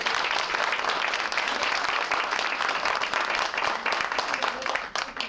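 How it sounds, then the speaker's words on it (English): A crowd at an American Association of University Women gathering applauds veterans, a loud, dense wash of clapping that continues without pause for over five seconds before dipping briefly at the close. "Could we have a round of applause?"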